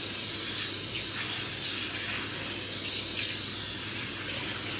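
A steady, continuous hiss of spray snow spraying from an aerosol can, held for several seconds without pause.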